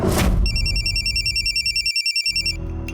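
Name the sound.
telephone ringing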